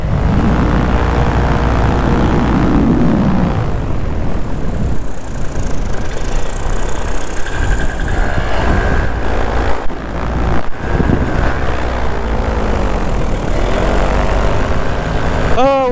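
Paramotor engine buzzing steadily in flight as the pilot comes in to land over Moab, loud and close with wind rush, the tone shifting as power changes, with someone talking over it.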